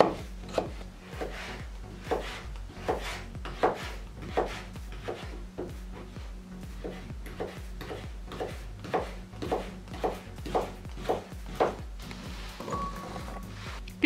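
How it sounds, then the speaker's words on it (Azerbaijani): A knife dices vegetables into small cubes on a cutting board, a close, steady run of crisp chops repeating about every half second with no talking. "Sonra da bu cür balaca-balaca qub-qub doğrayırıq."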